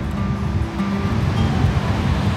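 Sea waves on Dublagadi beach: a steady, close wash of surf with a low rumble, roughened by wind noise on the microphone, and no voices.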